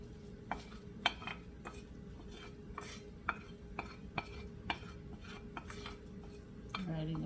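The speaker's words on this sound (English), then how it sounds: "stirring the mushroom" Mushrooms being stirred in a pan with a utensil, soft scraping and clinks at irregular intervals over a faint steady background, quiet and close.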